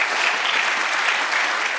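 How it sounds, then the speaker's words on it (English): Steady applause from a poetry slam audience, a dense wash of many hands clapping at even loudness throughout, with no voices above it. "So round of applause for SCORE's and the way they use their voice"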